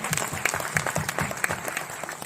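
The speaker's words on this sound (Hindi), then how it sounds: "तो एक बार जोरदार ताली हो जाए मैडम के लिए प्लीज।" Loud, steady applause from an audience at an award ceremony honouring a recipient, with dense clapping continuing throughout and no break.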